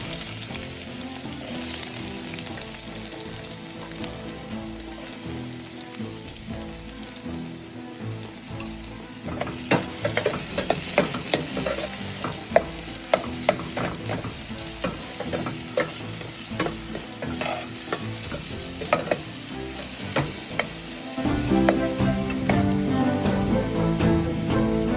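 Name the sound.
mustard seeds frying in oil for curry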